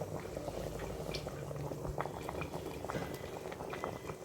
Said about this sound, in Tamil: பாருங்கள், நல்லா குழம்பு கொதித்து வந்துருச்சு.